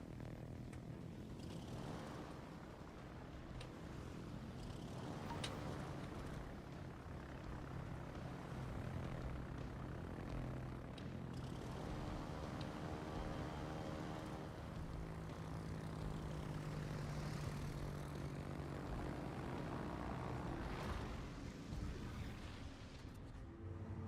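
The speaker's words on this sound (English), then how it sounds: "Launch those torpedo bombers." Torpedo bomber aircraft engines drone in the naval game World of Warships, a steady propeller hum with rising and falling engine tones, moderately close and continuous with no talk.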